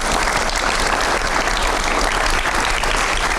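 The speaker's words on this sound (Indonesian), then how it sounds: "Kasih tepuk tangan dulu dong." Loud, dense applause from a studio audience at a talk show about a news editor, a steady wash of many hands clapping throughout with no pauses.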